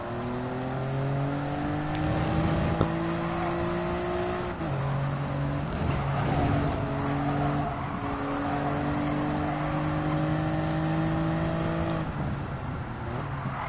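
Race car engine in Gran Turismo 7 during a Toyota Gazoo Racing GT Cup event, droning steadily through gear changes with rising and falling pitch, loud and continuous with no talk.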